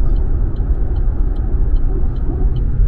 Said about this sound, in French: les bruits sont principalement des bruits de roulement